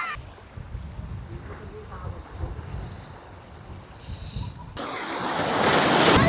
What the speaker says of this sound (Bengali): বন্ধুরা ঢেউগুলো দেখো জাস্ট কতটা বড় বড় আসছে